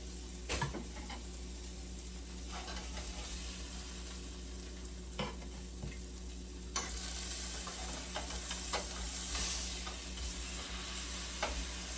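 Breakfast sandwich fillings frying in a pan give a continuous moderate sizzle with occasional light taps and scrapes, no voices over it.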